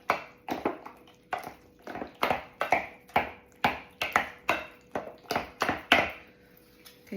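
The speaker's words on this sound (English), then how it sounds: "I'm actually going to use my mix and chop a little bit first. Kind of get it going and break up that butter." A mix and chop utensil breaking up butter in a bowl: a steady series of about sixteen sharp tapping, pressing strokes at an even rhythm, close and clear, with no voices.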